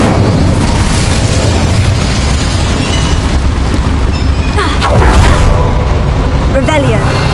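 A roaring, booming blast of the Incendio fire spell in Hogwarts Legacy rumbles loud and continuous under a voice, swelling briefly near the end.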